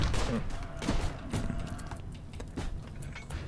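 RimWorld battle gunfire, scattered sharp shots popping in quick irregular bursts, with someone speaking over the fighting.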